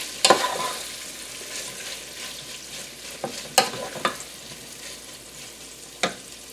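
Onions and cabbage frying in kielbasa pan drippings with oil and butter, giving a continuous close sizzle punctuated by a few sharp clacks of stirring.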